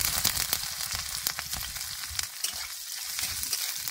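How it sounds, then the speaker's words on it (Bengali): Chopped onion and dried red chillies fry in hot oil in a home kitchen, a crackling, spitting sizzle with sharp pops and occasional stirring scrapes, close and moderately loud. "পেঁয়াজ আর শুকনো লঙ্কা ভাজে নিছি"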